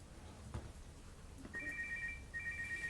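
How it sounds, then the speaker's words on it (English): A mobile phone ringtone chirps in repeated short electronic bursts over a noisy room background, fairly faint and in the midst of an interview setting. "Which phone is that? That's the second time it's gone off."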